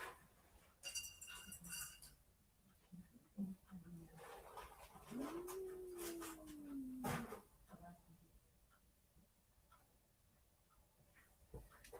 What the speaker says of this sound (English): I'm hearing weird cat sounds.